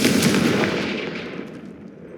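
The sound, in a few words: Confringo fire spell cast in Hogwarts Legacy video game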